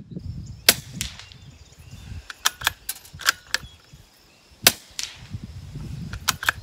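A Ruger Precision Rimfire rifle fires a string of quiet, sharp, close cracks at irregular intervals, with soft handling noises between shots.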